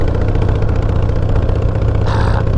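A Harley-Davidson Dyna motorcycle engine runs close by with a loud, steady, throbbing low rumble and mechanical clatter, and a brief rise in pitch near the end.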